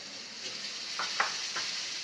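Chopped tomato frying in masala for black masoor dal, a soft, steady sizzle with a few light scraping stirs in the middle, fairly quiet throughout.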